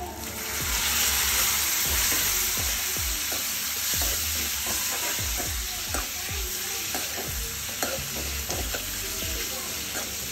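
Boiled mutton sautés in oil with onions and curry leaves in a pan, a loud continuous frying hiss punctuated by repeated spatula scrapes and stirs at an uneven pace, close up and without speech.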